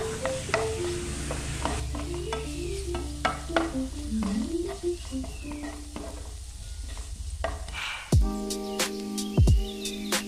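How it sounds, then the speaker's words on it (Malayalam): Prawn masala with turmeric is stirred in a sizzling frying pan, with steady scraping and frying under background music and a few sharp utensil clanks near the end. "വഴറ്റിയ ശേഷം മഞ്ഞൾപ്പൊടി ഇടുക അതിനുശേഷം വീണ്ടും നന്നായി മിക്സ് ചെയ്യുക"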